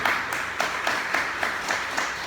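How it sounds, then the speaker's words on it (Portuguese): Congregation clapping in a church, a fairly steady wash of applause with faint rhythmic pulses, moderately loud and heard alone without speech. "Dê uma salva de palmas para a palavra de Deus."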